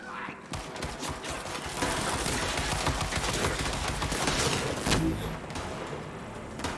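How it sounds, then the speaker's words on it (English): Gunfire from enemies aimed at the player in the video game Borderlands 3, a dense, continuous barrage of shots layered with game effects, fairly loud throughout and rising slightly toward the middle. "What is this shooting at me?"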